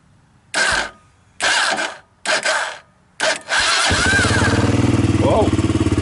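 2004 Honda TRX300EX ATV cold starting: four cranking bursts, then the engine catches and settles into a loud, steady, pulsing idle close by.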